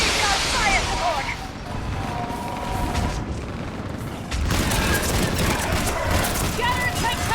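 Gunfire and fire support in Mass Effect 3 combat: a dense, rumbling battle din with scattered shots and booms, rising louder midway, while voices shout over the fighting.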